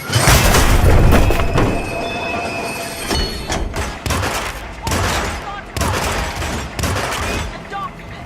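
Gunfire bursts in the Hitman video game during a mission firefight, a loud opening volley followed by repeated sharp bursts spaced across the clip over a steady background din.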